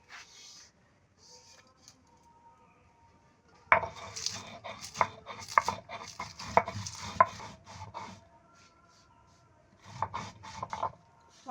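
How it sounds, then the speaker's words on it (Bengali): Roasted cumin, cardamom and cinnamon are crushed by hand on a stone slab, giving bursts of scraping, knocking strokes at close range separated by quieter pauses. "এখন আমি একটু পাটায় গুঁড়া করে নিব"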